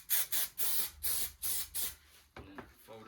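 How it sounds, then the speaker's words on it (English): Adhesive glue is sprayed onto the edge of a headliner panel in a run of five or six short, close hissing bursts, followed by quieter handling sounds. "So I'll just give it a spray"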